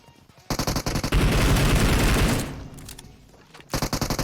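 Rapid bursts of automatic gunfire in PUBG Mobile rattle close and loud, followed by a sustained roar, a lull, then another quick burst of shots.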